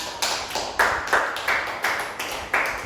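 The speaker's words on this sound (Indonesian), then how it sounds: "Beri aplaus untuk Rizka" A few people in a small group session clap for a participant, sparse separate claps about every third of a second, close and fairly loud, with no talking.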